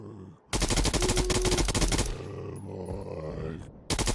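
Rapid automatic gunfire in a zombie video game, a loud continuous burst of shots lasting a few seconds, mixed with zombie groans and game noise, then cutting out briefly before resuming.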